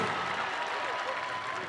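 A church congregation at a Burundian crusade gathering applauds, a steady wash of many hands clapping at moderate loudness throughout the short stretch, with no pause.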